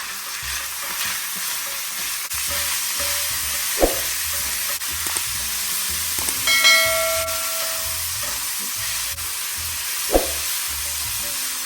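Minced meat frying with glassy, salted onions in a pan for stuffed peppers in tomato sauce, a steady loud sizzle with a few stirring scrapes and clinks of a spoon against the pan, no talking.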